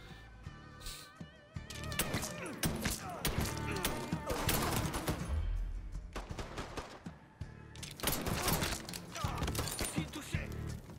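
Pistol gunfire in the Mafia 3 video game, a run of sharp loud shots spread across the scene amid game action and mechanical clatter, with someone talking over parts of it.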